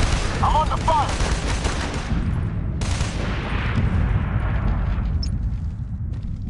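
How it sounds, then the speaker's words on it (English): Rapid gunfire in the video game Socom Special Forces, dense continuous bursts with a muffled booming low end, a sudden cut in the highs midway, loud throughout. "I'm under fire."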